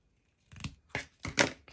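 Scissors snip through paper for a coffee-and-chocolate themed junk journal, four quick close crisp cuts following a brief silence, with no talking.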